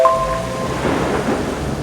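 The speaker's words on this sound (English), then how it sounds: "Alan and Claire are driving home right in the middle of a thunderstorm" Thunderstorm sound effect with heavy rain pouring down in a steady loud hiss while a low roll of thunder rumbles through it.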